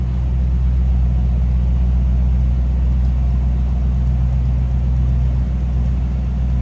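A 1955 Ford Fairlane Sunliner convertible idles steadily, heard from behind the car, its exhaust giving a smooth, deep, even rumble that stays loud and unchanging throughout.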